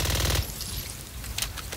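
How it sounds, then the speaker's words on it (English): Firecrackers go off inside a house in the zombie shooter Back 4 Blood: a dense, rapid burst of loud crackling pops that stops abruptly after a moment, leaving quieter scattered crackles and game ambience. "Firecrackers here."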